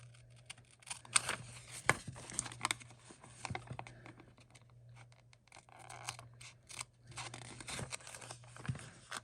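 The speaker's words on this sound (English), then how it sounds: "So what I'm going to do is I'm going to just cut it myself." Scissors snipping and crinkling through a Dollar Tree sticker by hand, with quick irregular cuts and paper rustles close by, quiet over a steady low hum.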